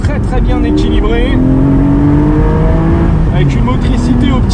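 A 2019 Porsche 718 Spyder with a 420 hp engine howls loud and close through repeated downshifts, its rising and falling engine note filling the cabin and drowning out other sound.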